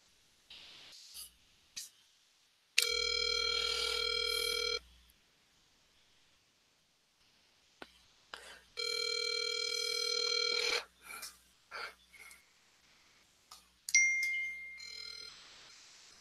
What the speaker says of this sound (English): All right, so Michael did not pick up. We'll try the other line